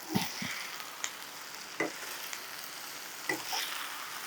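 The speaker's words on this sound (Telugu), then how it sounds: "మగ్గాలి ఉల్లిపాయలు కదా కసు కసు అంటాయి కొంచెం మగ్గే వరకు" Onions softening in a pan for masala idli, a soft steady sizzle punctuated by several sharp spatula scrapes and taps at irregular intervals, close and fairly quiet with no voices.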